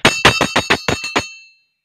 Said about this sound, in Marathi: घंटी वाजवा आपण